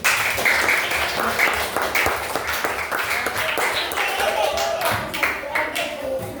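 A group in a training session claps their hands together, quick uneven bursts of applause that run steadily from start to finish, with voices mixed in among the claps.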